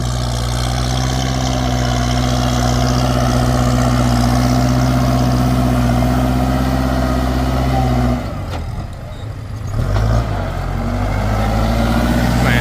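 Kubota L4708 and M7040 tractors pushing soil with their blades produce a loud, close, steady diesel drone that holds under load, dips briefly near the end, then recovers.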